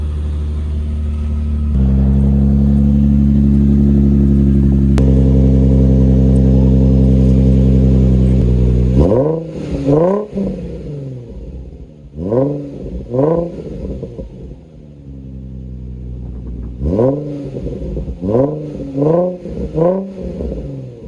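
Nissan 350Z fitted with a baffled oil catch can idling steadily, then revved in a series of sharp throttle blips that rise and fall back to idle, loud and close.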